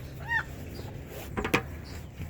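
Chickens at feeding time scratching for grain, giving a few short clucks and squawks over low background noise, with a brief cluster of sharp sounds midway; fairly faint overall.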